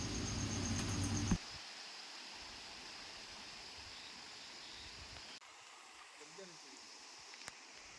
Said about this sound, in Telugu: ఆ వాటర్ ఫాల్స్ పైనుంచి, గుట్ట పైనుంచి బండల మధ్యలో నుంచి కిందికి జారడం జరుగుతుంది